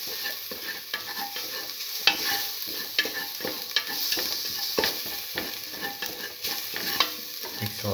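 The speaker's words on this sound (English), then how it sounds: "Thoroughly sauteing it." A garlic and mung bean mixture sautés in a pan, a close, steady sizzle broken by repeated scraping stirs and small pops, with no talking.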